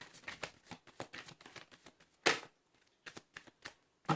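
Tarot cards being shuffled in a run of quick, papery riffles and taps, close and fairly quiet, with a brief louder flurry midway and short pauses between bursts.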